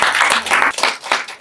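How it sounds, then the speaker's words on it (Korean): Classmates applaud a tenth-grade student after a research presentation in a school classroom: brisk, close clapping from a small group in short bursts, lasting only a moment. "발표를 해준 진호에게 응원의 박수입니다."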